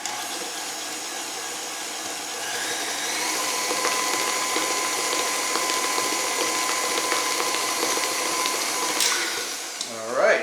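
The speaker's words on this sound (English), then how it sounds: "let me blend that in" An electric hand mixer whirs steadily, blending mayonnaise into a 1930s-style chocolate cake batter, a continuous mechanical drone with bowl scraping that stops near the end with a brief clatter.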